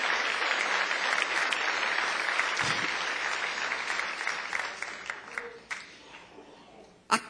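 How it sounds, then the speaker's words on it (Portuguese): Church congregation clapping in praise during a sermon, a sustained full round of applause that gradually thins and fades out, followed by a couple of sharp knocks at the end. "Você pode aplaudir ao Senhor pela libertação, da transformação, da palavra de Deus que veio na tua vida"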